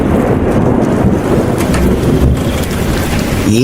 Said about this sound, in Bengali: এই সেরেছে গো আমার যে বৃষ্টি নেমে এলো